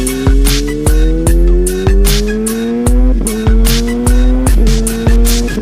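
A Kawasaki ZH2 motorcycle with a quick shifter accelerating hard through several rapid gear changes, the engine note climbing and cutting at each shift, loud and close throughout.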